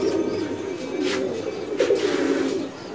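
Many pigeons cooing together in a breeding loft, a dense, continuous low burbling chorus close at hand.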